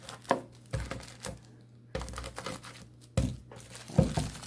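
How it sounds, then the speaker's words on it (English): Food is crushed with a peanut butter jar, giving a series of irregular soft thumps and crunchy crumbling sounds, fairly faint and close with pauses between. "You can take your peanut butter jar if you have a peanut butter, crush it up."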